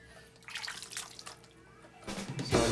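A small amount of water poured into rice for fish biryani: quiet trickling and splashing that grows louder and fuller toward the end, close by with no talk.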